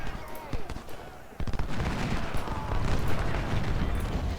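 Ten-pounder artillery pieces in Ultimate General: Civil War at the Battle of Fredericksburg open fire, a dense rolling roar of booming shots and crackling gunfire building after a sharp burst near the middle.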